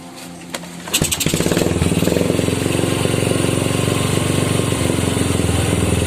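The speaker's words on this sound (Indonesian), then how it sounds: "Dan kita tes hidup motor ini teman-teman." A Yamaha Jupiter Z motorcycle engine fitted with a Vega ZR CDI starts after a second of quiet and settles into a steady, loud, close idle that keeps running to the end.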